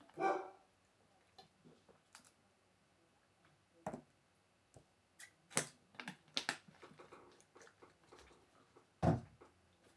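Dog barking indoors: a few scattered short barks spread across several seconds, fairly faint and irregular, mixed with tapping and handling noises and no talking.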